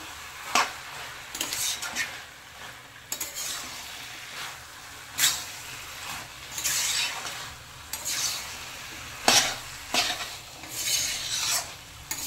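Fish roe stir-fried in a pan, with scraping spatula strokes against the metal at irregular intervals over a faint steady sizzle, close up with no talking.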